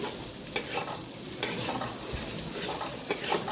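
Soft frying sizzle in a pan with a few sharp clinks of a utensil against metal, steady and close, no voices.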